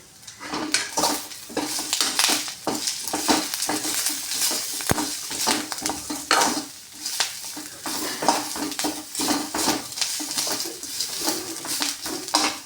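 Vallarai (brahmi) greens sizzling and being stirred in a pan, with repeated scraping and clinking of a utensil against metal over a steady frying hiss.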